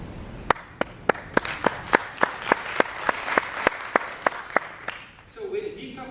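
Council members applaud in a meeting room with slow, evenly spaced claps, about two per second, fairly close and crisp, that stop after about five seconds and give way to a low murmur.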